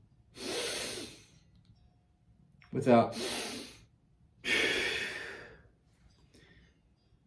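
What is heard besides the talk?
deep breathing exercise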